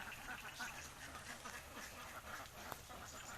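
Free-ranging egg-laying ducks foraging in rice fields quack repeatedly in scattered calls. The calls are faint and somewhat distant, with a quiet outdoor background.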